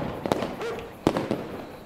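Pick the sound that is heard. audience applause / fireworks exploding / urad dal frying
fireworks exploding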